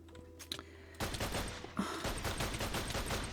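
Rapid bursts of gunfire in a zombie apocalypse video game, starting with a few scattered shots and then breaking into a dense, sustained volley of loud, overlapping reports.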